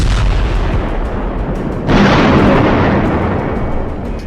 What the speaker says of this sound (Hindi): जिस वक्त गाजा की गली गली में इजरायल के बम गिर रहे हैं